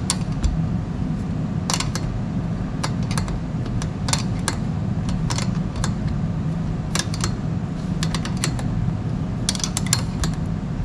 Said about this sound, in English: I'm going to use the same tool, 5mm Allen, 13mm wrench. We'll go ahead and tighten this up.